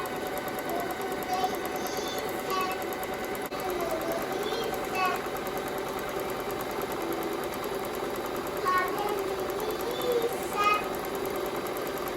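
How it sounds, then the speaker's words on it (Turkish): A sewing machine running steadily while stitching a straight seam on a fabric pouch, a continuous close mechanical whirr under intermittent talk. "Şimdi şu kısımdan buradan böyle düz bir dikiş atıyoruz"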